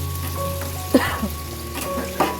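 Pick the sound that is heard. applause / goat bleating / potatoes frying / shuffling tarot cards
potatoes frying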